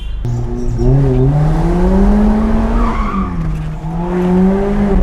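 A Mazda Roadster or Abarth 124 Spider drifts, its engine note rising and falling steadily while tires squeal continuously, loud and close for the whole stretch with no talk.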